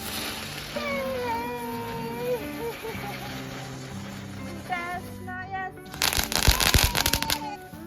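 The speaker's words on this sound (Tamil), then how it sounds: "ஸோ இங்கே பட்டாசு வெடிப்பாங்கன்னு எங்களுக்கு தெரியாது." New Year fireworks burst outdoors during a German winter, a cluster of loud crackling explosions arriving near the end after a stretch of quieter ambient sound with faint tonal calls.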